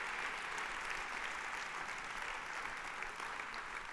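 A church congregation applauds during a worship service, a faint, even wash of many hands clapping heard from a distance, steady and unbroken throughout.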